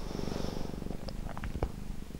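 A small cat purrs close by in a home, a soft, steady rhythmic rumble with faint small sounds over it, quiet and continuous.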